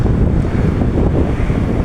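Strong wind at the sea buffets the microphone in a constant, roaring rush, with a wash like surf or open water underneath.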